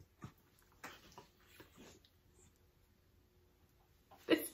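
A dog whimpers and cries in a quiet room, with several soft, brief whines spread through the clip and one sharper, louder yelp near the end.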